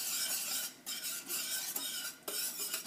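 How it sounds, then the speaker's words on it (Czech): Garlic and sugar being stirred into a chicken wing marinade in a bowl, a close, soft scraping and rubbing that pauses briefly twice, with no talking. "Mezitím to trochu jenom zamíchám"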